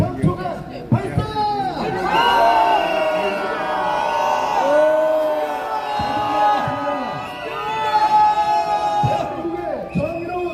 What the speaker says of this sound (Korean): 대한민국 검사와 판사들을 위해서 응원의 함성 3초간 발사!